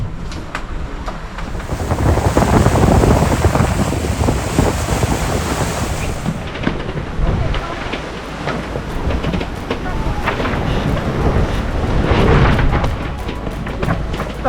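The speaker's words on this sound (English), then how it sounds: "So the winds are up and down, up to 20 and past 20 knots." Strong wind of up to 20 knots and more buffets the microphone over the wash of waves and water rushing past a moving sailboat at sea, loud and continuous throughout.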